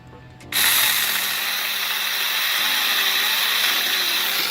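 A Saker mini electric chainsaw cuts through a piece of wood, its motor kicking in abruptly with a loud, steady high-pitched buzz that holds without a break to the end.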